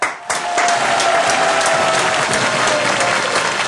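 A studio audience at a Dutch television quiz bursts into loud, full applause after a brief pause and keeps clapping steadily to the end.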